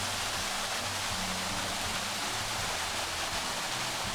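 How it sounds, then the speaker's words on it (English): Artificial pump-fed waterfall fountains in landscaped grounds at Anakeesta, Gatlinburg, Tennessee, rush in a constant broad hiss, steady and enveloping, with no voices over it. "I love the sound of the waterfalls."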